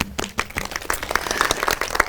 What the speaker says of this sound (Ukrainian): Оплески всім мамам.